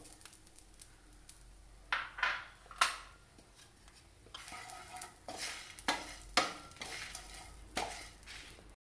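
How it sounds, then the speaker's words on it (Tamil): Grated coconut is stirred and roasted in a pan while cooking a brinjal kuzhambu, with a soft sizzle under repeated scraping strokes of a spoon against the metal pan, each stroke clear and close. "இப்போ துருவி வச்ச தேங்காய் பூவையும் இதில் சேர்த்து வறுத்துக்கலாம்"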